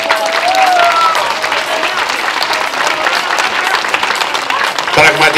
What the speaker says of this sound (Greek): Ένα μεγάλο μπράβο και ένα χειροκρότημα για όλα τα παιδιά.